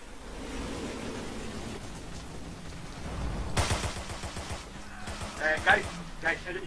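Scattered gunfire in the Forgotten Hope 2 multiplayer game plays under a player's voice, first as a faint rolling backdrop, then as a louder burst of rapid shots, with more bursts after it.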